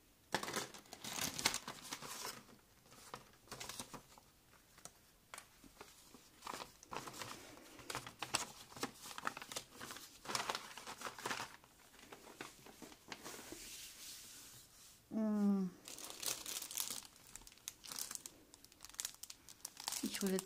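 Crinkling and rustling of plastic bags, loud and close, continuing under a person talking throughout.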